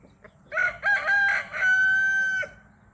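Roosters on a farm crowing at each other in a standoff, one loud, close, drawn-out cock-a-doodle-doo with a few sharp clucks at the start, no speech.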